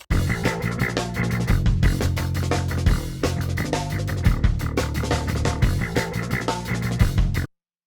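A punchy, compressed drum beat plays with a deep electric bass line in steady rhythm, then cuts off abruptly near the end.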